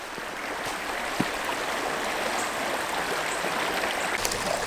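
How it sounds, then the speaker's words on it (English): A small waterfall feeding a stream in the Oklahoma woods gives a constant close rushing wash of water, steady and fairly loud, with a couple of faint knocks and no talk. "Pretty cool little waterfall right here."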